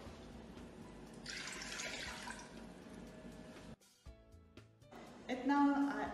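Tap water pours steadily into a cooking pot, about two liters for a Russian-style meatball soup, running close and loud with a change in pitch as it fills, then briefly stopping before splashing again.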